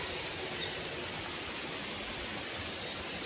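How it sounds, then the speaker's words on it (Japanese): Small birds chirp and sing in short high twittering phrases along a spring mountain trail on Mount Ryokami, faint against a soft broadband background hiss with no voices. "あと鳥のさえずりが聞こえます。"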